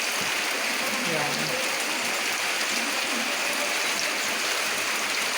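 Floodwater from a typhoon rushes steadily past a house's back area, a continuous broadband wash of flowing water, with a faint voice murmuring briefly underneath early on.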